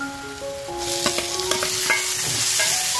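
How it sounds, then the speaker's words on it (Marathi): Tomatoes fry in oil with onion for a dried fish gravy, a steady close sizzle broken by several sharp clinks and scrapes of stirring, with a faint tonal whine underneath and no talking. "टोमॅटो आपल्याला मस्त मऊ होईपर्यंत चांगला फ्राय करून घ्यायचा."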